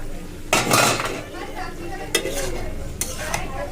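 Fish frying in a pan of oil and being flipped, with a steady close sizzle broken by three sharp scraping, clattering turns of a spatula against the pan.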